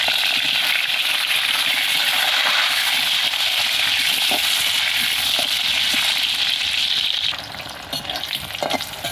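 Cut pointed gourd (potol) fries in hot oil, left from frying shrimp, for a Bengali potol chingri dish: a loud, continuous close sizzle with light pops that softens noticeably near the end.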